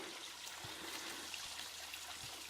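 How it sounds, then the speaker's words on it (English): Steady broadband rush of a very large, perfectly vertical waterfall on a creek, a continuous hiss of falling water with no voices, fairly faint and even throughout. "Very large waterfall, perfectly vertical."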